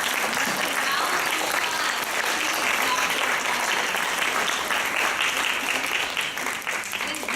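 A high school public forum debate audience gives sustained, dense applause for the debaters, loud and steady for the whole stretch with no voices breaking through.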